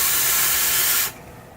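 A SMOK GX350 box mod with an RDA, set to 350 watt preheat and 480 degree stainless steel temperature control, fires a single puff: a loud, close, steady hiss that lasts about a second, then cuts off to near quiet.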